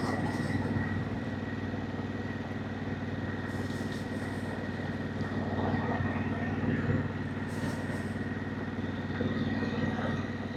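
A Harley-Davidson Pan America motorcycle riding a gravel road out of town through farmland, its engine a steady low drone with a constant wash of tyre and wind noise.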